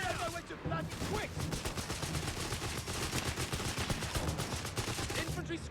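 Machine gun fire in the Company of Heroes 3 video game rattles in rapid, continuous bursts across the whole stretch, loud and close, with voices talking underneath.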